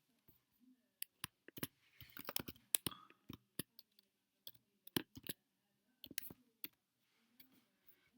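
Typing on a computer keyboard, quiet and close: scattered single key clicks and short quick bursts of taps, with pauses between them.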